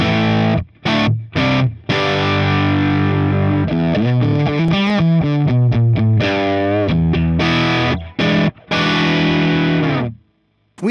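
Electric guitar played through a Line 6 Helix into Cubase, heavily distorted with a chorus-like effect, sustained chords and a run of quick melodic notes with short pauses between phrases, loud and close with no voices.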